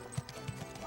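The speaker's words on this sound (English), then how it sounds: "The shoeing of horses, neighing and braying of mules" Horses in a busy 1846 wagon train camp, with a few soft hoof clops and faint stirring sounds in a short, quiet, distant-sounding burst.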